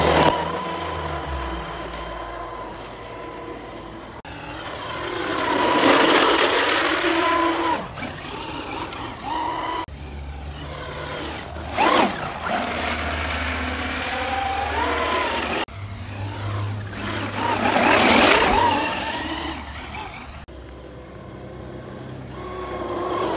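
A Traxxas UDR radio-controlled truck drives in repeated passes, its electric motor whining up and down as it accelerates, surging louder roughly every few seconds and then fading, with no speech.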